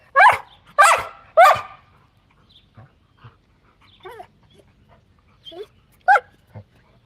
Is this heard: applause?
no